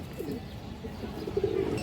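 Soft, low cooing from a restless female pigeon, a short murmuring coo that swells near the end over a quiet background, with no talk.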